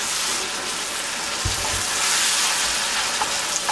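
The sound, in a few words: tomatoes and salt frying in a pan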